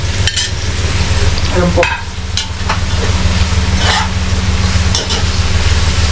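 Ingredients with tomato sautéing in a pan for sarsiyadong lapis fish, cooked in Sharjah, UAE: a loud, steady frying hiss over a low burner rumble, with brief clinks of a utensil. A voice speaks briefly.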